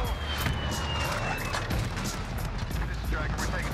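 Rapid bursts of gunfire come from an Uzi loaded with stopping power rounds in a first-person shooter game. Repeated sharp shots and impacts sound close and dense, and game noise fills the background.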